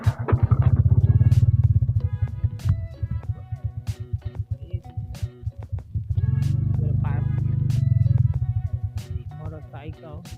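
A Honda motorcycle engine rumbles nearby at a spot by a fishing area, swelling in two louder revving stretches with a steady idle between them, while birds chirp sharply over it.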